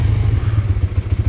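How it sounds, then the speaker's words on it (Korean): A Suzuki GSX-S125 single-cylinder 125cc naked bike engine revs under throttle with a steady, loud, close low-pitched pulsing thrum and slight mechanical clatter, alone without speech. "역시 단기통 125cc 엔진이어가지고 이렇게 스로틀을 감아보면 그런 귀여운 소리가, 단기통 특유의 소리가 납니다"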